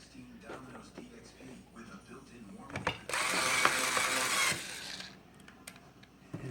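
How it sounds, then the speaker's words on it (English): A power screwdriver drives a screw during a battery replacement, whirring in one sustained burst of a second or two amid quiet clicks and handling noises, with soft talk before it. "I'm going to use the power screwdriver."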